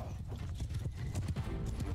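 Horses from the Roman-era battles of Mount & Blade II: Bannerlord thud along in a dense, continuous clatter of hooves, with a whinny rising over the steady rumble and voices talking quietly beneath.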